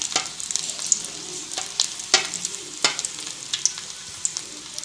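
Chicken drumsticks fry in hot oil with a steady, close sizzle, broken by sharp clicks and taps from stirring and turning the pieces.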